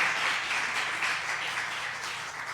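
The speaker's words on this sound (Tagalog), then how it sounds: "Palakpakan natin na buhay at malakas na palakpak ang mahal na Panginoon" A church congregation applauding for the Lord, a steady wash of many hands clapping at once, moderately loud and sustained without pause.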